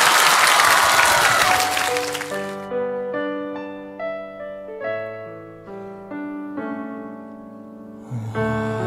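On the Happy Camp television show, a studio audience applauds to welcome a singer, a dense burst of clapping for about two and a half seconds that gives way to soft piano chords.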